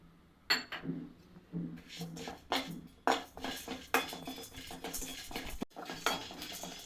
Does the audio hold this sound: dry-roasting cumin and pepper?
yes